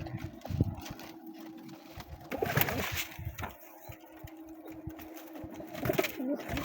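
Pigeons feeding in a home loft, with a dominant male keeping the others off the food. Close, busy cooing and soft bird calls run throughout, with scattered small scuffs and flutters.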